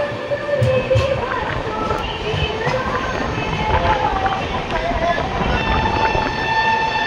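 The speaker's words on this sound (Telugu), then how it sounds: "సో మన ట్రైన్ అయితే కజ్జిపేట్ జంక్షన్ నుండి అయితే స్టార్ట్ అయిపోయింది." The Satavahana Express with LHB coaches runs out from Kazipet Junction, giving a steady rumbling rail noise with rhythmic wheel clatter heard from on board, moderately loud, with faint voices mixed in.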